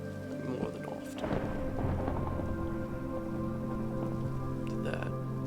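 A Minecraft thunderstorm with steady rain and a rolling thunder crack, then another rumble later, heard under a sustained background tone with a voice talking at points.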